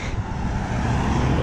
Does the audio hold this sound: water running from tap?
no